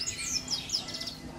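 A small bird at an outdoor bird fair gives a few quick, high chirps and tweets, faint and alone.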